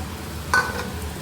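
Stingray pieces fry in spice paste and oil with a soft, close sizzle and one brief sharper burst partway through.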